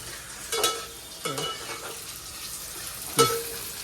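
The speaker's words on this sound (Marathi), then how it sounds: "मिक्स होण्यासाठी फिरवत बसायला लागते थोडा टाईम" A spoon pushes veg Manchurian gravy around a pan in three or four distinct, scraping strokes over a low background sizzle, each stroke rising briefly and then fading.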